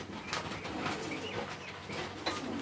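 Dewlap pigeons, including a blue checkered bird, give soft coos and squeaky calls over steady background noise, with a faint flutter of movement, fairly close and moderately loud throughout.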